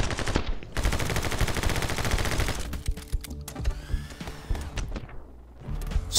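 Rapid machine-gun fire in a shooter video game, loud and continuous for a few seconds, then breaking into scattered single shots and clanks before another burst at the end.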